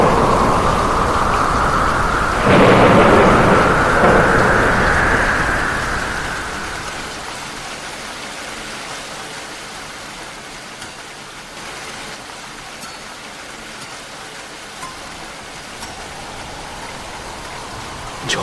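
A heavy thunderstorm sound effect: steady loud downpour with a swelling rumble of thunder early on, then the rain settles into a softer, even hiss that fades lower over the rest.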